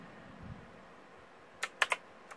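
Keys on a Redragon K55 computer keyboard click a few times in a quick cluster after a quiet hiss, three sharp close taps followed by one fainter tap.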